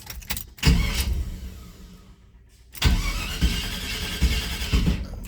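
A Chevy C10 truck engine cranks briefly, pauses, then catches and settles into a steady, fairly loud idle close by, with no talking.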